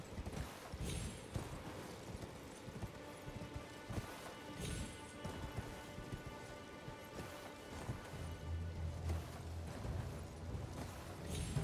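Horse hooves clip-clopping in an Elden Ring platformer game, a series of soft, uneven thuds heard alone against a faint background, with a low droning tone near the end.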